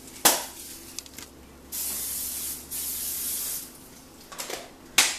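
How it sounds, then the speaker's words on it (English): Canola oil cooking spray hisses onto a non-stick pan on the stove in two steady bursts of about a second each, with short sharp clicks and clatter from the can and pan around them. "I use canola oil cooking spray on a non-stick pan."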